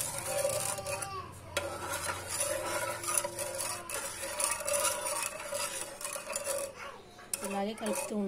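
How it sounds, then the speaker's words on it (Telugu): A spoon stirs a sugar mixture in a pan over a low gas flame, making continuous close scraping and rubbing against the metal with occasional clinks. "లో ఫ్లేమ్లో పెట్టేసి ఇలా దీన్ని కలుపుతూ ఉండాలి"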